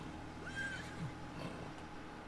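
A horse in the video game The Sims 3 gives a short, faint whinny over a soft background hum, with a hint of hoof clopping, and no one talking.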